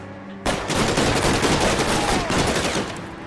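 Shotgun fire in a police patrol video game, a sudden loud blast followed by a dense, continuous roar of gunfire that stays heavy for several seconds.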